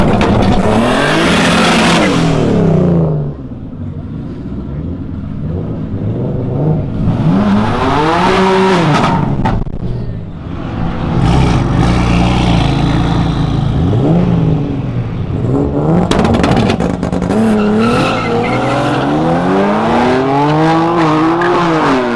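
A BMW M4 race car with 710 wheel horsepower revs hard at a drag strip, its loud engine rising and falling in repeated throttle bursts that sweep upward in pitch, close and dominant.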